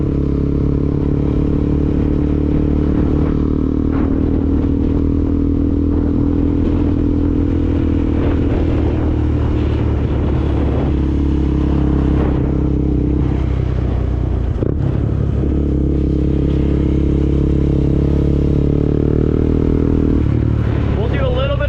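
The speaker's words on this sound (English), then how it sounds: "Sounds just like a dirt bike." A KTM Duke 390 motorcycle engine while riding, giving a steady, close droning hum with a low harmonic tone that holds fairly even throughout, with slight dips and swells as the throttle shifts.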